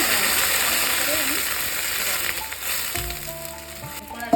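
Potatoes fry in a pan for aloo posto, giving a steady soft sizzle that fades slightly, with a few tonal clinks near the end.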